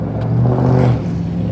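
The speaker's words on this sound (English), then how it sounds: "I like to hear the sound of the traffic driving next to me." Traffic rolling past close by on a road, a steady car engine rumble and whir that swells briefly as a vehicle passes, then settles into a continuous hum.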